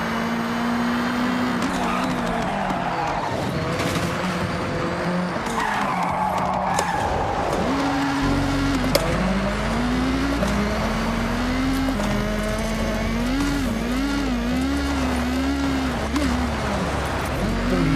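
Cars race in the Forza video game, with engines whining and shifting pitch and tires skidding and squealing through corners, loud and continuous across the whole stretch.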